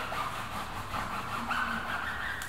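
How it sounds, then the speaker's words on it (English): A car tyre on a VW being scrubbed with a clean microfiber cloth and sprayed tyre and glue remover, a continuous close rubbing and scraping sound in steady strokes, no speech. "give the tyre a good scrub"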